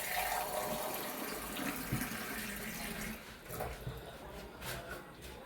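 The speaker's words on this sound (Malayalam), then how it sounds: "കുറച്ച് വെള്ളം ഒഴിക്കാം." Water pours into a pan of sugar as the first step of a syrup, a soft, fairly quiet splashing stream that trickles and tapers off toward the end.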